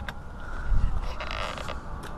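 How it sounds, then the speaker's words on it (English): Power folding side mirrors on a 2004 Chevrolet Silverado pickup move with a faint, short motorized creak and whir lasting about two seconds, close by and with no talking. "I could not believe it actually had power folding mirrors"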